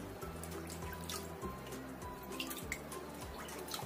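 Tap water runs in a sink while tofu is rinsed clean, making a steady close splashing trickle with faint dripping and a low rhythmic hum underneath, and no voices.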